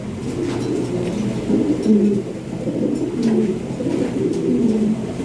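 Lahori Shirazi pigeons coo steadily in soft, repeated low calls, several birds close by with a continuous murmuring flock sound.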